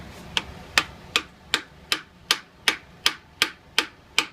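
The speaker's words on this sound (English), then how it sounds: "We're going to start tapping that in with a brass hammer." A brass hammer taps a shaft into the starter clutch of a 1984 Kawasaki LTD700: eleven crisp metallic taps at a steady, even rhythm about every 0.4 seconds, close and alone with no talking.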